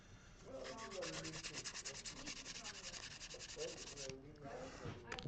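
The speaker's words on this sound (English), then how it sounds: "Here's some 220 grit sandpaper." Steady rasping strokes of 220 grit sandpaper rubbing along a guitar fingerboard during a headstock repair, close and continuous with a rhythmic back-and-forth scrape and a short pause near the end.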